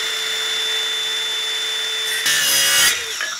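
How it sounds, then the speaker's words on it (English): A saw cuts through wood in a workshop, a quiet steady hum at first, then a loud rasping burst of cutting near the end that tapers off, with no talking. "Getting comfortable with cutting wood before I go straight to cutting my metal."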